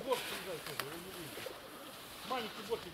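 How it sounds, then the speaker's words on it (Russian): Several pigeons perched on a winter feeder coo in short repeated phrases, near and fairly soft, with a couple of sharper bursts toward the end amid faint background noise. "Вот они на кормушке сидят такую."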